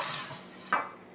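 Mushroom veggie burger mixture tipped into a bowl, a single soft wet thud and short scrape, close and brief over faint kitchen hiss.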